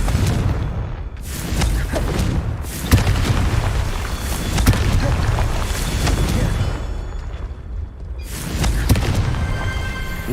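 Booming fire-spell explosions from the Confringo curse in Hogwarts Legacy, a dense rolling roar with repeated heavy blasts and whooshes filling the scene, loud and continuous with several sharper impacts.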